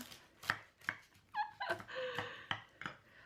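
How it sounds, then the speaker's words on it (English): Knife or spatula cutting into a baked vegan taco casserole in a dish, several sharp taps and scrapes against the pan, close but quiet, with brief squeaky scraping between the cuts. "So I'm gonna try and cut this like a pie"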